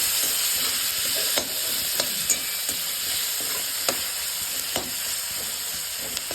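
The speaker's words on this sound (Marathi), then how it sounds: "टमॅटो चांगला भाजून घ्यायचा टमॅटो आणि कांदा करून घ्यायचा" Tomato and onion frying in a pan for a spicy potato curry, a steady sizzle with occasional scrapes of a spoon against the pan, close and alone without talk.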